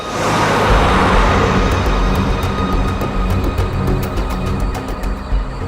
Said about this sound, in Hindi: कोई गाड़ी नहीं रुक रही